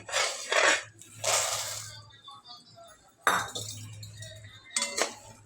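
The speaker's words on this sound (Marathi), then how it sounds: "आता मी गॅस बंद करते तर आणि हे सगळे शेंगदाणे या गुळाच्या पाकात घालते" Peanuts tipped into hot jaggery syrup in a pan with the gas turned off, giving bursts of clinking, rattling spill sounds in two main clusters, fairly close and moderately loud over a low background hum.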